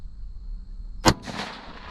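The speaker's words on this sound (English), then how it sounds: "I think I shot right over him" A single sharp .204 Ruger rifle shot fired at a groundhog cracks loudly after a quiet moment, followed by a brief rolling echo that fades over the next second, no voices.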